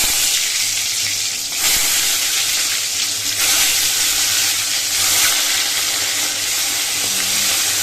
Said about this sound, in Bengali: এই দেখো কড়াইয়ে তেল দিয়ে দিচ্ছি। এখন বেগুনটা ভেজে নেব